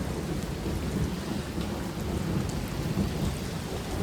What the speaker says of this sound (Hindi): ओह अब बादल घोरेगा देखो, अभी अभी बिजली कड़की है।